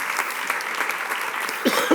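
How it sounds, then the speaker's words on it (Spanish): Theatre audience at La Abadía applauding actors after a Shakespeare reading, a steady mass of clapping with a couple of louder individual claps near the end. "Un aplauso."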